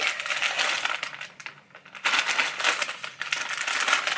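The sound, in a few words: opening a shipping package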